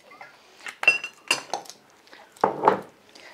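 Plates and a frying pan clink in a home kitchen while risotto is cooked, several sharp clatters and knocks spread irregularly over a few seconds, fairly close with no talking.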